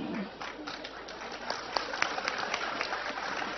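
Audience applause at an Islamic sermon gathering, a busy spread of many hands clapping at steady volume, somewhat distant and slightly muffled, with scattered sharper claps.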